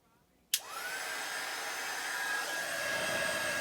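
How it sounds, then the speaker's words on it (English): A heat gun powered by a Predator 350 power station switches on with a sharp click, then blows with a steady, loud airy whoosh and a high whine that holds for several seconds, with no voices. "Let's go ahead and fire the heat gun and see what happens."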